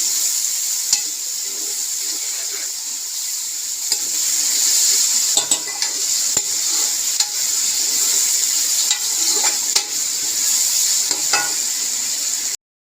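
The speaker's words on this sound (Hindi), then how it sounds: "तो अब मैं डालने लगी ये टमाटर। इनको मैं अच्छी तरह फ्राई कर लूँगी।" Tomatoes fry in a pan with browned garlic and ginger, giving a steady close sizzle throughout while a utensil stirs and scrapes with occasional light taps.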